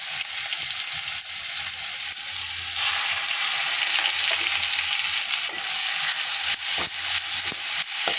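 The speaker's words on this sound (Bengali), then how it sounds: "তেল দিয়ে দুটো ছোটো এলাচ আর একটু জিরে আর একটু শুকনো লঙ্কা ফোড়ন দিয়েছি দিয়ে এবার পেঁয়াজটা দিয়ে দেবো" Onion hits hot oil already tempered with small cardamom pods, cumin seeds and dried red chilli, producing a loud, dense, continuous sizzle with occasional stirring scrapes, close and steady throughout.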